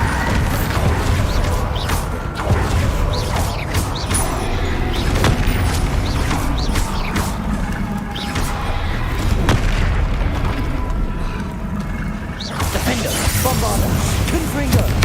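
Bombarda and other spell explosions fired in Hogwarts Legacy, a series of heavy booms and crashing bursts at irregular intervals over about fifteen seconds, loud and close, with voices calling out between blasts.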